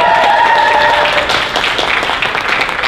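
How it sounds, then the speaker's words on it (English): Audience applause at an opening ceremony of a fan convention, a loud, sustained wash of clapping lasting a few seconds, with a brief tonal note near the start. "give this man a round of applause"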